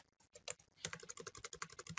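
Keys clatter on a computer keyboard: a few sparse taps, then a quick, dense burst of close typing with no talking.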